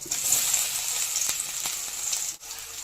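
Onions frying in hot oil with cinnamon, bay leaves, star anise, fennel and crushed garlic give a loud, steady, close hiss of sizzling, with a few faint stirring scrapes and a brief dip near the end.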